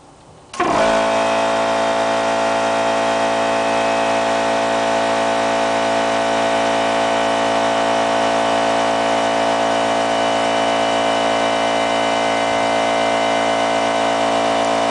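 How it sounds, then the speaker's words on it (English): An air suspension compressor on a Lincoln Town Car kicks on abruptly after a short quiet moment, then runs loud and steady with a constant buzzing drone right up close, with no talk over it. "You might hear the compressor kick on,"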